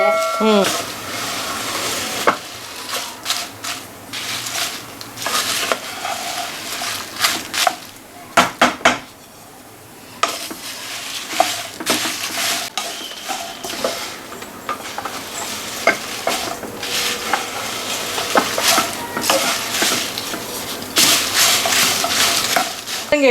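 Spice ingredients for Brahmin-style bisi bele bath powder fry in oil in a pan, giving a steady close sizzle broken by frequent scraping and clattering stirs against the metal.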